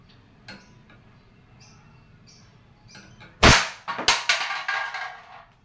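A Wingun 708 CO2-powered airsoft revolver fires several sharp, loud cracks in fairly quick succession near the end, after a few seconds of quiet handling clicks.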